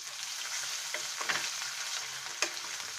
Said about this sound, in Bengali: রসুন বাটা এক চামচ আদা বাটা হাফ চামচ দিয়ে আমরা একটু নেড়ে নেই